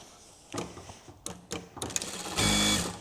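A sewing machine quilting fabric with foam for a tote bag, running in several short bursts of rapid stitching that end in a louder, sustained run, close by with no talking.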